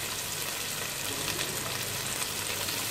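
Green onions, carrots and bell peppers sizzle loudly in a hot frying pan for chicken shashlik, a steady, dense crackling hiss that stays even throughout with no voices.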